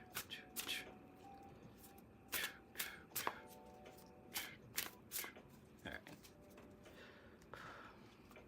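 A deck of playing cards shuffled up close with repeated riffles and flutters, crisp bursts of snapping cards coming in quick rhythmic runs; a voice speaks once briefly.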